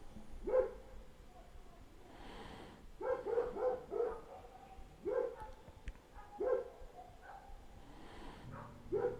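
Dogs barking outdoors, single woofs and short clusters of barks repeating every second or two at a moderate distance over a quiet room background.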